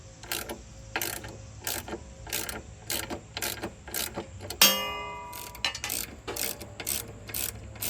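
A hand ratchet clicks in quick repeated strokes while a small bolt comes off a Gravely zero-turn 48-inch hydrostatic mower, close and crisp, with one sharp metallic clang partway through and no talking.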